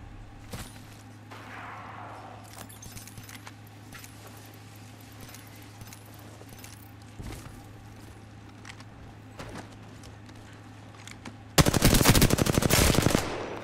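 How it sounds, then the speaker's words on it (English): Automatic gunfire in Apex Legends: a loud, rapid burst of shots that lasts about two seconds and cuts in abruptly after a quieter stretch of scattered clicks and low ambient hum. "Shots."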